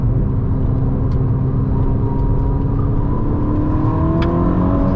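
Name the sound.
Ferrari SF90 hybrid sports car driving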